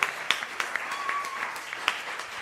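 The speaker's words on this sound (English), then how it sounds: "Give yourselves a round of applause as well." Audience applause at a comedy show at the Dallas Comedy House, a modest crowd clapping steadily with a few sharper claps standing out, heard at moderate distance.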